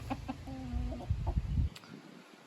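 Chickens clucking nearby in short, rhythmic bursts, with a brief drawn-out call, then quieting into near silence.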